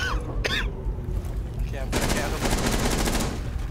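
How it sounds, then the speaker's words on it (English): Gunfire crackles through a Rainbow Six Siege match on the Yacht map, a dense burst of rapid automatic shots after a few scattered sounds, loud and close, with voices heard alongside. "Are you shooting at me?"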